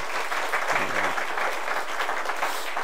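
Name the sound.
church congregation applause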